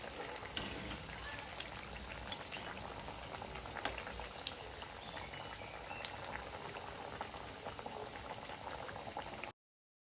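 Coriander vadi (kothimbir vadi) pieces deep-frying a few at a time in oil, a loud, busy bubbling sizzle heard close and unbroken until it cuts off near the end.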